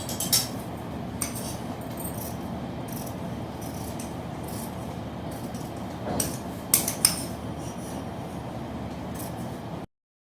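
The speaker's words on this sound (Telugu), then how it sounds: "ఇప్పుడు కట్ చేద్దాం." Scissors cutting fabric for a long frock, heard as a scattered series of brief crisp snips and metallic clicks over a steady low background hum, with no talking.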